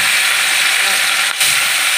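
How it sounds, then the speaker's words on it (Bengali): Mourola fish frying in hot oil in a wok gives a steady, loud, broadband sizzle that holds evenly throughout, with one brief dip near the end. "এই কড়াইটার মধ্যে না এত সুন্দর মাছটা ভাজা হয়"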